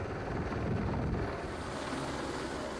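A helicopter drones steadily with a dense, rumbling rotor and engine noise, continuous and fairly loud throughout.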